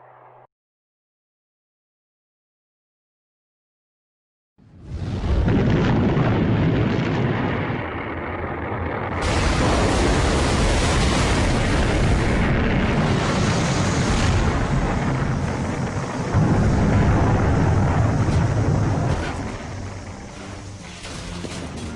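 A Titan missile blows up over a test base, debris falling onto the base and into the sea offshore: after a few seconds of silence comes a loud, sustained roar and rumble that stays dense and powerful for the rest of the clip.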